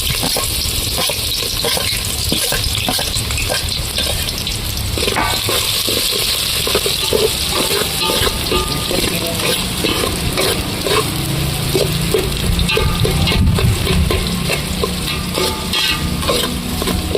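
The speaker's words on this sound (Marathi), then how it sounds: "थोडासा परतून घ्यायचा आपल्याला ह्याच्यामध्ये तेलामध्ये भाजून घ्यायचा आहे" Onion and vajadi masala frying in oil in a pan, a dense loud sizzle with frequent spatula scrapes and clicks throughout, with no voices.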